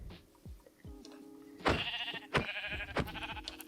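Sheep in modded Minecraft bleating as it takes damage, quiet thuds at first, then several loud close bleats in quick succession.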